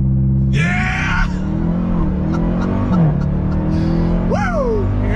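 A 2021 Dodge Durango Hellcat SUV accelerates hard from a standstill after a launch-control start, its engine climbing in a loud, rising roar heard from inside the cabin, with excited voices shouting over it.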